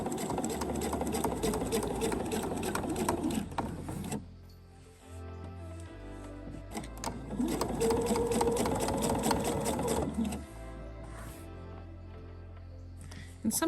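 A sewing machine stitches bias tape down in two long, steady runs, pausing briefly in between. The motor hum is close and loud throughout each run.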